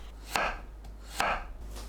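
Two firm knife cuts through a dense peeled kabocha squash, slicing 0.5 cm pieces about a second apart, each a crisp crunching chop on a cutting board in a quiet kitchen.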